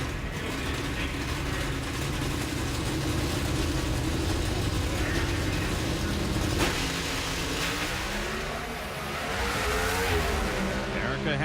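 NHRA drag race car launching at the 2011 Gatornationals in Gainesville, a loud sustained engine roar that rises in pitch as it accelerates away, then dips and swells again as it fades down the track.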